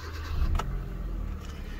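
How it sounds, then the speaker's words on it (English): A car engine cranks and catches after trouble codes are cleared with an OBD2 scanner, a brief starter whir turning into a low, steady idle rumble, close by and alone. "So let's start the car"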